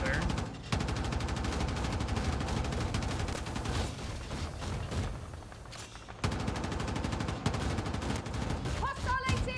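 Rapid bursts of automatic gunfire and a few booms in a Battlefield 6 multiplayer match, dense and continuous, with brief pauses and voices talking faintly over the shooting.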